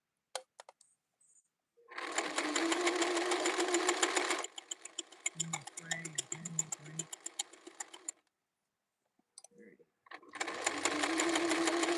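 A sewing machine stitches denim in two long, loud runs of steady whirring. Shorter bursts with low thumps fall between them, and a little handling noise comes before the first run.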